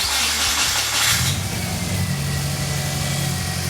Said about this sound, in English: The engine works just fine.